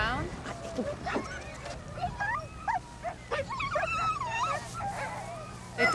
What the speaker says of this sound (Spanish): Los perros tienen hambre.